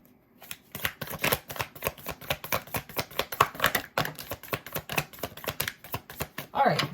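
Tarot cards being shuffled in a rapid, rhythmic flurry of riffling taps that continues steadily, close and moderately loud.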